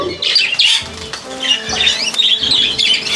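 Several birds, including canaries, squawk and chirp sharply at close range while being unloaded, with some wing flapping mixed in and no talking.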